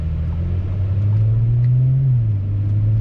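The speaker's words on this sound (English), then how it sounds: "But you can hear the exhaust in the background." A deep, steady exhaust rumble from a 2021 Audi S4 (B9.5) idles close by, its low drone holding constant with a slight rise in pitch midway, no voices.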